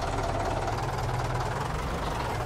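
A tractor engine idling in the farming game Farming Simulator 22, a steady low rumbling drone with knocking pulses, constant and loud throughout with no speech.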